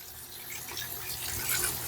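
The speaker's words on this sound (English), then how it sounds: "I'm just going to direct the water to where I want it to be." Water from a tap runs steadily over a vintage caracul wig pelt during doll restoration, a soft continuous splashing hiss that swells slightly near the end, close and moderately loud with no talk.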